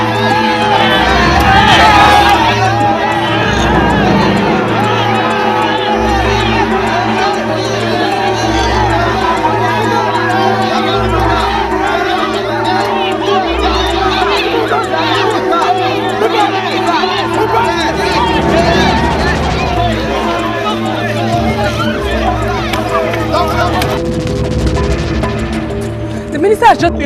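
A large crowd of students in uproar, with a dense, loud roar of shouting, chatter and cheering that holds steady throughout while water bags are thrown.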